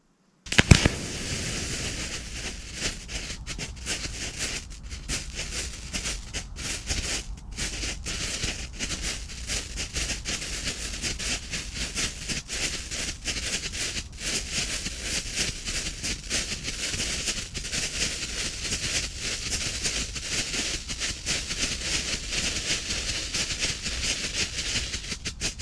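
Theatrical pyrotechnic strobes fire one after another, giving a sharp pop and then a dense, continuous crackle that stays steady and fairly loud for over twenty seconds.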